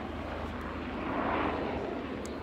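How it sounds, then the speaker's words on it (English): Steady rotor-like aircraft drone passing overhead, loud and broadband, holding level with a slight swell in the middle, no voices. "We got a helicopter."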